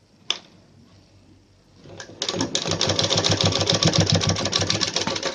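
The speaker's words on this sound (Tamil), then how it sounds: "நல்லா ஸ்ட்ராங்காக தையல் போட்டுக்கோங்க" A sewing machine stitching the back neck of a blouse starts after a quiet pause, running in a steady, loud, rapid stitching rhythm close by with a brief click beforehand.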